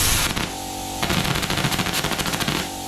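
A plasma cutter torch with a built-in compressor fires up instantly, giving a loud, harsh, crackling buzz that holds steady with rapid rattling pulses for about three seconds.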